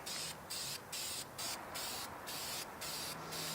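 Spray gun laying a final thick coat of paint on a Pontiac engine for a 1970 Pontiac LeMans, quiet hissing bursts in a regular on-off rhythm of short passes.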